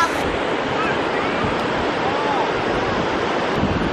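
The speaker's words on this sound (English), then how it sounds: "The wind's good though today." Steady wind buffets across a beach, a continuous loud rush mixed with surf hiss, with no clear voices over it.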